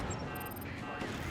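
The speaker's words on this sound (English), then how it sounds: "Oh, I think that was a cannon shot" Cannon fire rumbles through a video game battle as a dense, continuous roar of heavy booms and crackling explosions with no clear gap.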